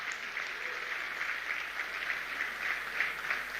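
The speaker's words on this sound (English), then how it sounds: "I think they deserve another round of applause, a huge one at that" An audience at a ceremony honouring D'Tigress, Nigeria's women's basketball team and 2025 FIBA Women's AfroBasket champions, gives steady, moderately distant applause that holds evenly throughout without talk.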